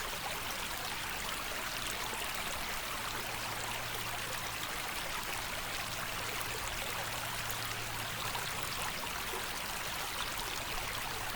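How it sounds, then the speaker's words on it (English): White Clay Creek flows steadily, a soft continuous wash of running water with no pauses, heard alone and fairly faint outdoors. "Listen and connect with the sounds of White Clay Creek."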